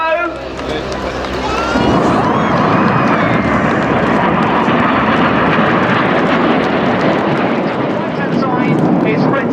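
Red Arrows RAF jet aircraft at an air show at Yeovilton, a loud, sustained roar of jet engines that swells after a quieter opening and holds steady as the jets pass.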